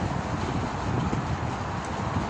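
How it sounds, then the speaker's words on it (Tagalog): Strong stormy wind in Kuwait roars and buffets continuously against the microphone, a dense, rumbling gust with no pauses. "Ang lakas ng hangin."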